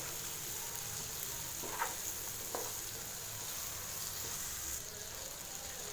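Ivy gourd sautéing with masala over a low flame, a quiet continuous sizzle with a couple of soft stirring scrapes, heard faintly and with no voices.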